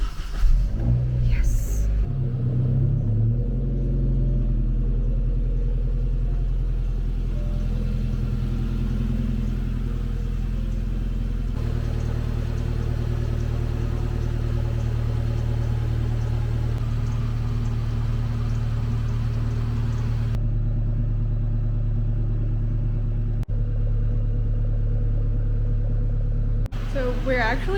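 A car engine catches and settles into a steady, low idling rumble that continues close by for the whole stretch, with a voice briefly exclaiming over it.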